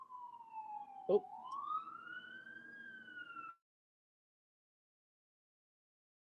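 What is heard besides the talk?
emergency vehicle siren passing outside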